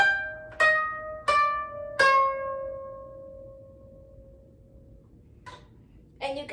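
A koto plucks the beginner piece Usagi (Rabbit): three clear ringing notes spaced evenly, each decaying slowly in a quiet room, then a pause before a couple more soft plucks.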